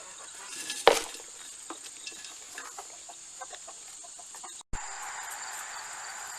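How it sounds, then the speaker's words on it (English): Small backyard chickens clucking softly at feeding time, scattered low calls over quiet ambience with a sharp knock near the start and a brief cut partway through. "First we feed our little chickens."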